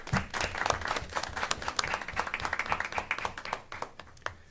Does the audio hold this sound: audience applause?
yes